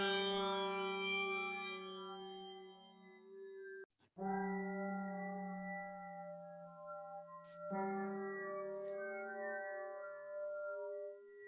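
A machine-learning generated instrument tone played on a different MIDI note, sustained harmonic notes repeating in three long phrases with brief breaks and clicks between them, clear and alone without talk.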